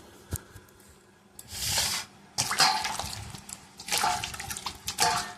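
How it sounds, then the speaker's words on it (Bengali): Palm fruit is washed in water, with splashing, dripping and sloshing in several bursts separated by quieter gaps, close by and moderately loud, with no talking. "প্রথমে আগে ধোবো, ধুয়ে তারপরে ছুলবো। এখানে জল আছে"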